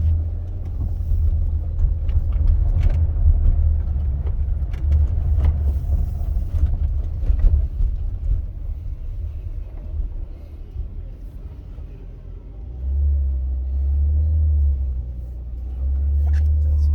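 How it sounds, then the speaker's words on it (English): An off-road car engine rumbles low and steady as it drives over a tilt wall on a rainy trail, loud and close, with brief voices under the noise. "Hey, Justin, let's go through the tilt wall one more time"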